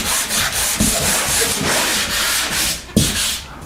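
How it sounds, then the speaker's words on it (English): A dried patch on a wall gets a quick hand sanding, with steady, loud, close abrasive rubbing in back-and-forth strokes and a sharp knock near the end. "give it a quick sand"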